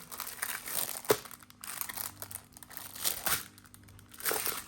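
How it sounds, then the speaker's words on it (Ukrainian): Close, irregular crinkling and crumpling of the packaging of a flat parcel as it is opened at home, coming in rustling bursts with short pauses between them. "Відкриваю я вдома цю посилку."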